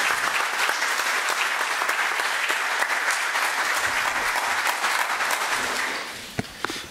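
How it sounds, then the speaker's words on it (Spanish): Audience applause for Mario Castillo at an arbitration congress, a dense, steady roar of many hands clapping that holds loud for about six seconds, then thins and fades with a few last scattered claps. "pedir un fuerte aplauso por este esfuerzo para Mario Castillo"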